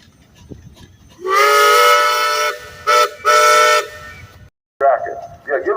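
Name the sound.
whistle of an 1899 straw-burning steam engine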